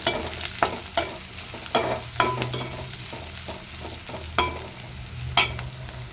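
Green chillies and curry leaves fry in hot oil for a palak paneer curry, giving a steady close sizzle broken by repeated spatula scrapes and clinks against the pan.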